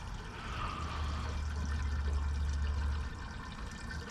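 Gasoline pours from a container with a small breather hole punched in it into a Ryobi generator's tank, a steady, close gurgling splash that keeps flowing for several seconds and then tapers off, with no talking.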